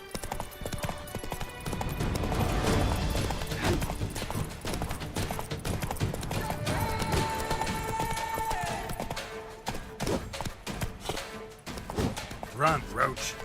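Horse hooves clip-clopping at a gallop in the Witcher 3: Blood and Wine video game, steady rhythmic thuds under a dense layer of game music and ambience, with brief louder hits near the end.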